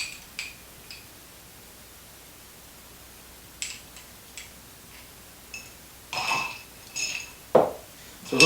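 A rum cocktail of Lapsang Souchong tea and Killarney honey stirred in a glass, with sparse clinks and scrapes at first, then denser rattling of ice and spoon toward the end over a quiet hiss.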